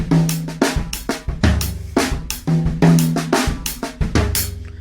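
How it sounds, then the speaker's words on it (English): Drum kit playing a basic songo linear groove, with kick, snare and hi-hat strokes spread out one at a time in a busy, syncopated, repeating pattern, close and loud, with no talking. "Play me a basic sango, the most basic pattern of it."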